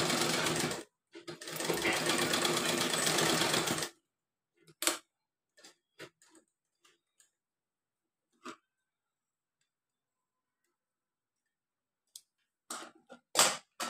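A sewing machine stitches a small summer dress bodice for a Krishna idol, cloth held at a slant, with one dense run of about three seconds, then scattered light clicks and taps of handling the fabric.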